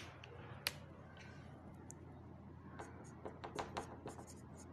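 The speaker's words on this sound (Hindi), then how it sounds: "नेक्स्ट हम लिखते हैं" Faint pen strokes during a physiology lecture on respiration, a few soft scratches and taps spread out over a quiet background hum.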